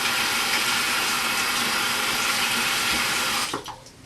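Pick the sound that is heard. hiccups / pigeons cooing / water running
water running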